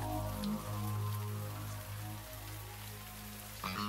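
Steady rain falls in a dramatic street scene, a soft continuous hiss under a low engine-like drone, with a brief sharper sound near the end.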